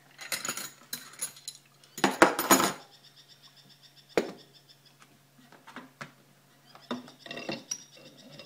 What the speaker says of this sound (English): So now we're just going to put the piston into the pump.